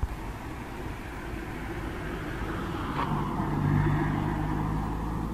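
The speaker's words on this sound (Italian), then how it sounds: "aspetta che sta passando una macchina" A car passes along an Italian street, a low rumbling approach that swells gradually to a peak and then eases slightly, steady and fairly close with no talk.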